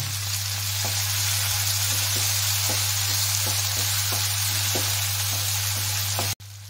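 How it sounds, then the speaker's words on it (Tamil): Tomatoes for a chicken fry sautéing in a pan: a dense, steady hiss of frying over a constant low hum, with faint regular ticks of stirring, cutting off abruptly near the end. "இந்த தக்காளி இதை போட்டு நல்லா வதக்குங்க"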